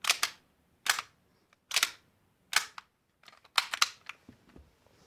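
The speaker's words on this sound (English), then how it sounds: "actually nearly sounds a little bit metallic when you're racking it" A series of sharp, slightly metallic clacks from a Tokyo Marui H&K USP Compact airsoft pistol slide being racked, about six, each a crisp snap with a short rattle, spaced irregularly with quiet gaps between.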